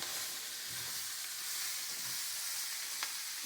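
Breakfast potatoes frying in a cast iron skillet give a steady, close sizzle and crackle throughout, with a few brief stirring scrapes and pops and no talking.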